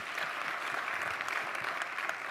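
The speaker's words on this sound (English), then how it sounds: "Give her a big round of applause for that question" An audience at a business presentation networking session breaks into steady, dense clapping that fills the room for a couple of seconds.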